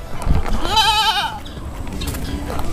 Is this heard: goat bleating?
yes